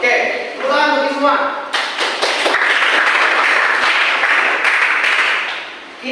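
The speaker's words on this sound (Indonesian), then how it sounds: "tepuk tangan bagi semua" Pupils in a madrasah classroom break into loud, dense clapping that carries on for several seconds, after a brief stretch of a teacher's voice at the start.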